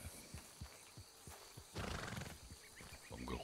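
A horse whinnies in a short burst amid rhythmic hoof clops in Red Dead Redemption 2 Online, fairly faint with game ambience.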